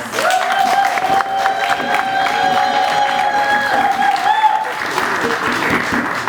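A crowd at a Brussels press event applauds the president of the Brussels Assembly, with loud, continuous clapping and cheering and sustained tonal music or voices running through it.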